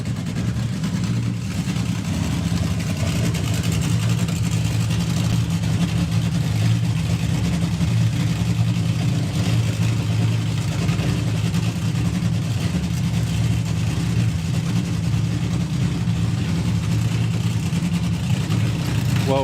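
A drag racing car engine at a nostalgia drag racing meet runs steadily for the whole stretch, a loud, deep continuous rumble with a constant low drone and no clear revving peaks.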